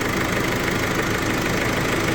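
A 2016 Opel Insignia's diesel engine idles steadily, a continuous close, loud mechanical drone with a faint knocking texture and nothing else over it.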